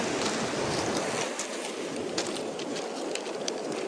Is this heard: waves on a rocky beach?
yes